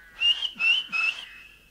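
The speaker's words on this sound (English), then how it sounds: "He went to the door and whistled for one of the rabbits that lived in the wood." In an audio drama, a character whistles three short, bright rising notes in a row to call a rabbit from the woods, clear and close against a quiet background.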